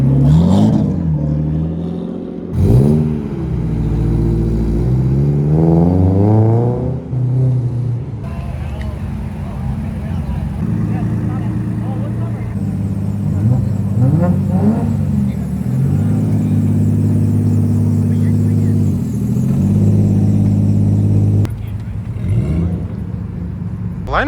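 Drift cars at a nighttime car meet idle and rev close by, with a steady deep engine rumble and repeated rising and falling throttle blips. Muffled voices can be heard in the background.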